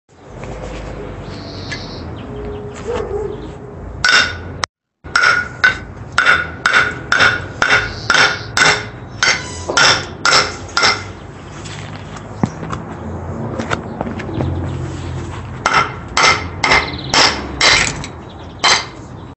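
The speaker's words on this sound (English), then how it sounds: "I just put my knife through a brick wall" A survival knife being hammered through a brick and cement wall, a sharp outdoor series of loud metallic strikes in quick steady runs, separated by short pauses, with faint birdsong in the background.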